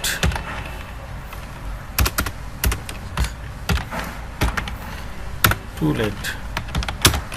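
Scattered keyboard typing while working in Microsoft Word, sharp separate key clicks and taps at an uneven pace, close up, with a voice briefly heard under them.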